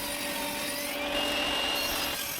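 A table saw cuts one side of a wooden crosscut sled back piece, with a loud, steady whining buzz throughout and no speech.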